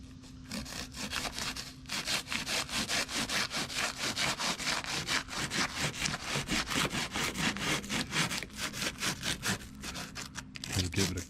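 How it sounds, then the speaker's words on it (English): Rhythmic back-and-forth hand sawing through excess material while fitting window speakers in a Trailblazer, a steady series of close, raspy strokes that speed up slightly, with faint rubbing at the end. "I'm just trying to cut the excess off so I can open up the door."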